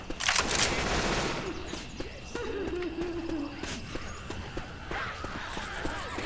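Shotgun blasts go off in the zombie shooter game Left 4 Dead 2: a burst of sharp booming shots at the start, then scattered lighter impacts and tones amid the game's noise.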